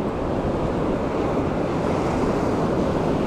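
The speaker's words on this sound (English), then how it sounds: "Bloody waves." Ocean waves crash and surge continuously along a shoreline, a loud, steady roar of surf close by with wind buffeting the microphone and no speech.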